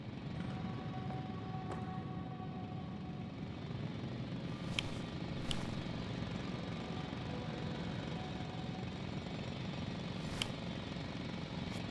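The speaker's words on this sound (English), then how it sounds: "It's a drill." A drill digging into the ground in the sci-fi game The Invincible gives a continuous loud, rough mechanical rumble with a pulsing, jackhammer-like grind. Occasional sharp clanks cut through it, and no one talks.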